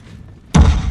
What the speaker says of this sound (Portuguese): nós ouvimos os primeiros canhões inimigos